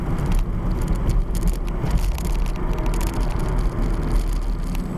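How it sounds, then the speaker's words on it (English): A 2001 Toyota MR2 Spyder's mid-mounted engine drones steadily from inside the car, with constant road rumble and faint rattles throughout, no talking. "this mid-engine car that I'm driving for the first time"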